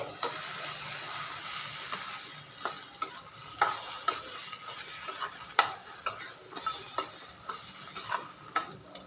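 Cooked moong dal for a Chettinad sweet being stirred in a pan on low heat, with a soft continuous sizzle and a regular series of spoon scrapes and knocks against the pan, close by.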